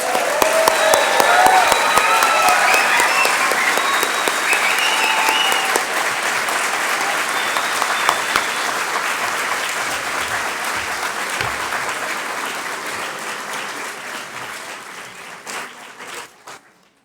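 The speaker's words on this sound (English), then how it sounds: "Let's give one more big round of applause for our graduates." Loud, sustained applause for the graduates at a MEDEX Northwest Tacoma graduation ceremony, a full crowd clapping steadily for many seconds before it slowly thins out and fades.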